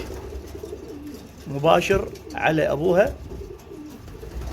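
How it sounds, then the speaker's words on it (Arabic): Racing pigeons coo in a loft with a low, soft murmuring in the background, while someone talks over it in the foreground. "هاي الطيور راح تطب"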